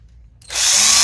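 Power drill threading a hole in a sump pump box, starting up abruptly after a brief quiet moment and then whining loudly and steadily at close range.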